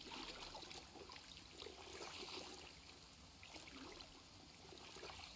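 Running water fills a basin to wash a pair of firefighter trousers in Project Zomboid, a soft steady trickle and splash that stays faint and continuous throughout.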